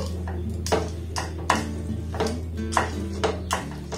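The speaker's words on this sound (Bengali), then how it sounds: "ঘিটা দিয়ে আবার এটাকে আমি খুব ভালোভাবে নাড়াচাড়া করে নেব।" A spoon stirs semolina barfi mixture with ghee in a metal pan, scraping and knocking against the pan in an irregular rhythm of sharp metallic clinks over a low background hum, close and clear.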